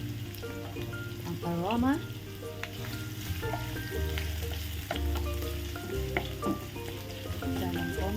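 Ginger sizzling in hot oil in a pan for squid adobo, a steady close frying hiss with stirring scrapes and clinks, and a voice speaking briefly over it.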